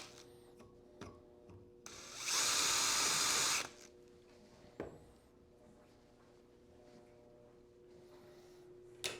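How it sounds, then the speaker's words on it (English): Electric drill boring a hole in a homemade gym pulley piece, one loud steady whirring burst of about a second and a half between quiet handling clicks and knocks. "If you drill for a long time, watch out, it can get hot."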